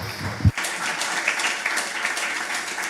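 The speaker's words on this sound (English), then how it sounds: "Big round of applause" Brief applause from a small audience at a volcanic-region cooking and geology talk at a farm, a short burst of clapping that quickly fades under a room murmur.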